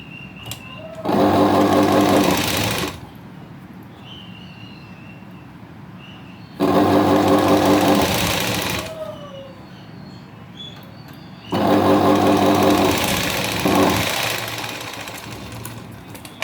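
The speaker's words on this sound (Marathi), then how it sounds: "त्याच्यावर डबल शिलाई मारायची" A sewing machine stitches a lined blouse yoke strip in three loud, steady bursts of rapid mechanical whirring, each lasting about two to three seconds with quiet pauses between them, heard close with no talking.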